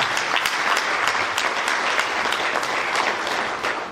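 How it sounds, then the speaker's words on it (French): A seated audience at a commemorative study day applauds loudly and steadily, dense rapid clapping filling the room for several seconds before tapering slightly at the end. "Je souhaite qu'on l'applaudisse très fort."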